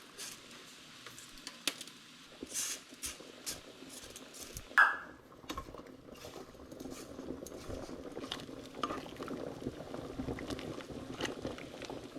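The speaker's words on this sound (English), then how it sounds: "since the water's boiling, I'm fixing to go ahead and add my noodles" Quiet, steady bubbling of a pot of water at a rolling boil, ready for spaghetti noodles, with an occasional faint clink nearby.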